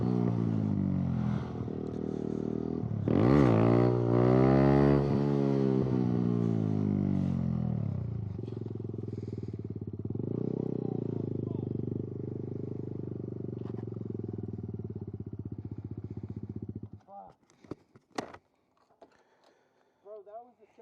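A Kawasaki Z125 Pro motorcycle revs hard during a wheelie attempt: the engine pitch climbs and swoops through a couple of surges, then settles into a steady drone before cutting off abruptly, followed by a few scattered clunks and clatter.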